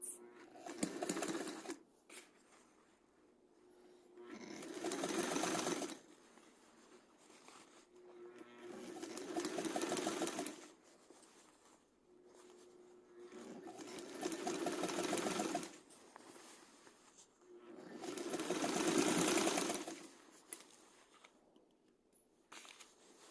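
An old sewing machine runs in repeated bursts of a few seconds while sleeves are sewn, whirring and clattering with quiet pauses between stitching runs.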